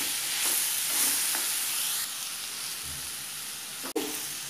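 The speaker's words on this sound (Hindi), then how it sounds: "अब हम इसमें पनीर डाल देंगे। और इसको अच्छे से मिक्स कर देना है।" Paneer and capsicum bhurji is stirred in a frying pan: a steady close sizzle with soft scraping from the spoon, and a sharp clatter near the end.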